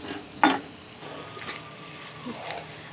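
Carrots frying in a pan and being stirred, a soft continuous sizzle under a sharp utensil knock at the start and lighter scrapes later, close and moderate in level.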